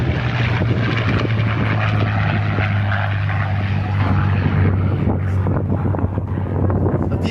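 A P-51 Mustang makes a pass at an air show, its propeller engine a loud, steady drone with a low, throbbing hum that carries through the whole stretch, with some wind buffeting and no talk.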